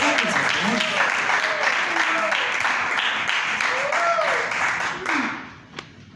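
An audience claps steadily under voices and shouts, then the applause dies away toward the end.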